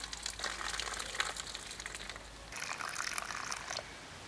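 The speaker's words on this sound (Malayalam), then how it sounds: "നല്ല വെള്ളം ഒഴിച്ചിട്ട് നമുക്കതൊന്ന് പിഴിഞ്ഞെടുക്കണം." Water is poured over soaked tamarind for rasam and squeezed by hand, giving a faint trickling, splashing liquid sound in two soft stretches over a low background hum.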